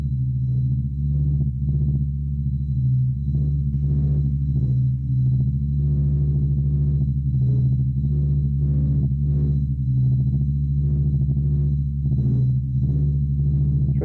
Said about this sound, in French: Et le premier son, c'est le son de la photosphère.